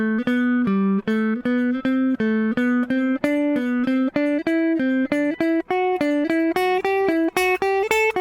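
Guitar running a stepwise four-note pattern, root then two steps up and back, as a CAGED practice exercise, with clean plucked notes in an even, quick rhythm climbing gradually higher, close and alone without talk.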